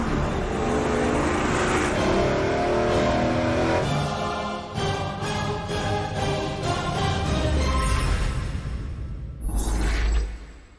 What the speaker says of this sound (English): that is a big block Ford, the very first 385 series engine to appear on Engine Masters